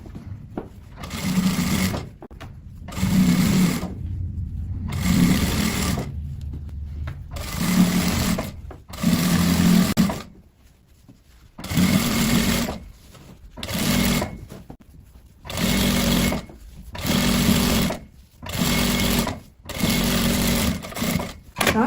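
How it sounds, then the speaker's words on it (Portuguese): A straight-stitch sewing machine runs a reinforcing seam along a sweatpants waistband in repeated bursts of fast whirring stitches a second or two long, separated by short pauses, loud and close. "eu prefiro passar uma costurinha na reta para ficar mais reforçado"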